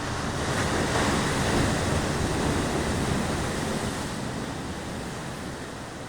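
Sea surf rolls steadily onto a long beach in West Java, Indonesia, heard from a small hill above the shore, a constant broad wash of waves mixed with wind rumble across the microphone.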